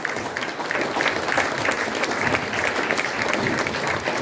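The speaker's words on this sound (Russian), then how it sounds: "давайте пошлем его аплодисменты" Audience applause at a musical premiere in St. Petersburg, dense steady clapping from a large crowd, loud and sustained throughout.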